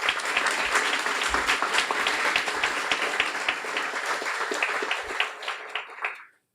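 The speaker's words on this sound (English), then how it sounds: "a warm round of applause" An audience at a guide dog school graduation breaks into warm, sustained clapping that fades away after several seconds.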